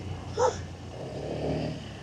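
A single short dog bark sounds once at a distance over a steady engine-like rumble of traffic, heard from a Honda SH125 scooter.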